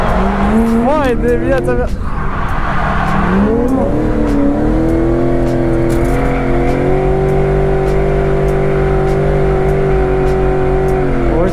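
A car drifts and spins under handbrake, its tyres squealing in long wavering tones while the engine revs hard, loud and close inside the cabin, and a passenger exclaims over it.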